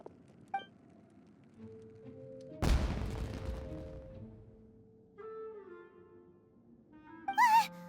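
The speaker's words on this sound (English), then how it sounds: "It sounded like fireworks." A firework exploding in the video game Genshin Impact, a single loud boom with a rumbling, fading tail amid soft game music tones.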